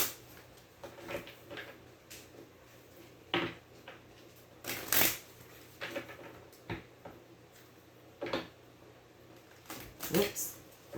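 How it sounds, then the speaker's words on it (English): Tarot cards are riffled and shuffled in several quick bursts, close up, with soft handling noises between each burst. "That was a crappy shuffle."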